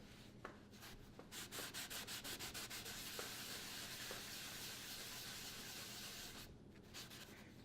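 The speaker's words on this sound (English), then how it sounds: "Try to get rid of some of that dust." Rapid back-and-forth rubbing strokes wiping dust from the underside of a wooden table, a soft rhythmic swishing that blends into a continuous brushing hiss before stopping.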